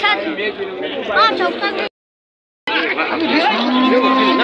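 Cattle moo repeatedly at a busy livestock market, loud close lowing calls over steady crowd chatter and overlapping voices, with a short silent gap midway.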